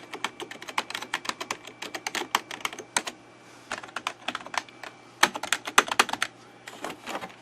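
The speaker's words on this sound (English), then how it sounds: "There's another Dell Quiet Key keyboard." Keys clatter rapidly on a vintage Dell Quiet Key computer keyboard, a close, dense run of crisp clicks in uneven bursts with brief gaps over a faint steady hum.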